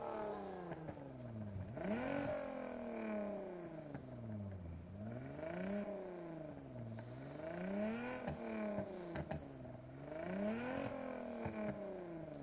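A tuned car exhaust in a racing video game revs repeatedly through rising and falling sweeps, several climbs to high revs each dropping back, steady and close with a faint clatter and no talk.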